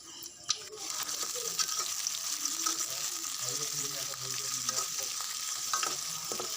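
Onions hitting hot oil with whole cumin seeds and whole spices in a wok, giving a loud continuous crackling sizzle with stirring clatter and a sharp utensil knock near the start.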